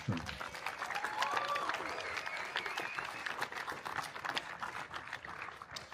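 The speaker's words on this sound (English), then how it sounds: "How about another round of applause for our trombone section?" Audience applause for the trombone section at an outdoor municipal band concert in a park, a steady moderate wash of clapping lasting throughout with faint voices mixed in.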